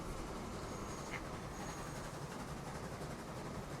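A train runs along the tracks in the Transport Fever 2 video game, a steady, continuous rumble with faint rhythmic rail clatter and a soft high tone, heard alone without talk.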